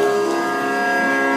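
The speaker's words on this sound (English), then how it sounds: "So if you went to a piano, it would sound like this." A sustained piano chord rings steadily and evenly for a little over a second, played alone at moderate loudness in a music-teaching setting.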